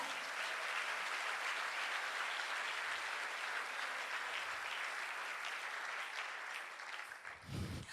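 A church congregation applauds steadily and fairly evenly for several seconds during a French-language evening sermon, with the clapping thinning slightly near the end.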